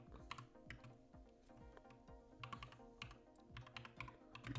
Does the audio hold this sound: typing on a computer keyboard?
yes